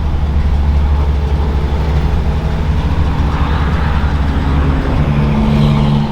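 A Brabus G63 engine produces a loud, deep, steady rumble close up, with a rising tonal hum near the end as the revs climb briefly.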